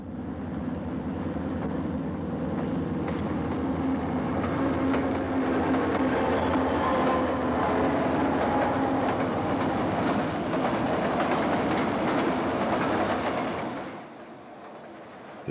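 B&O and Seaboard diesel trains rolling past, a loud sustained rumble of engines and railcars with a clattering rhythm that holds steady for most of the clip, then drops off sharply near the end.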